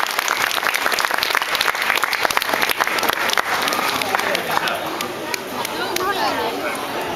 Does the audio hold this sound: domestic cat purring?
no